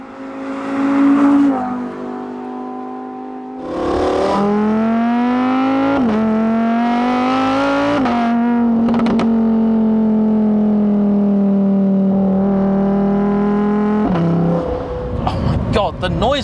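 A Lamborghini Huracan STO's engine drones loud and close while driving, holding a steady note that shifts in pitch with each gear change, briefly dropping away and then returning, with someone speaking over it.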